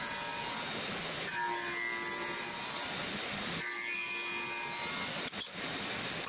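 A hand saw cuts through wooden boards for sofa legs in steady back-and-forth strokes, close and fairly loud, with a short pause partway and no talking.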